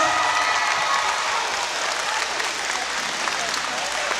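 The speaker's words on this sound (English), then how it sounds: "Let's give her a round of applause." A room full of people applauds during a musical chairs game event, giving a brisk, even round of clapping that stays fairly loud throughout, with a faint murmur of crowd voices underneath.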